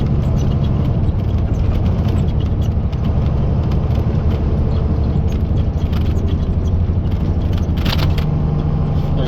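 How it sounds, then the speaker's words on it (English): An 18-speed semi truck descends a Colorado mountain road in seventh gear at about 30 mph, giving a constant heavy engine and road rumble with light rattling heard from the cab, no voices. "Driving down the mountain doing 30 miles an hour."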